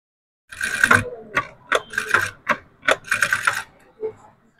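Sewing machine stitching piping trim on fabric for a hand design, heard as several short bursts of rapid mechanical chatter separated by pauses, fairly close and clear with no talk over it.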